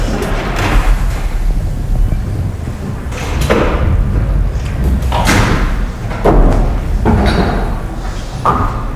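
Five-pin bowling balls strike pins in a tournament, giving a series of heavy thuds and clattering crashes spaced a second or two apart over continuous alley noise.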